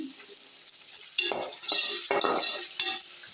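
Onions sauté in a pan for chicken curry, starting with a quiet sizzle and then turning to loud, close metallic scrapes and clinks of a spoon stirring in bursts.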